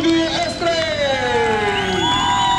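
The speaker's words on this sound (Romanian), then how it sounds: "Aplauze pentru Audi" A crowd at an Audi S3 car event in Arad cheers and whoops, with loud, continuous shouting and raised voices sustained throughout.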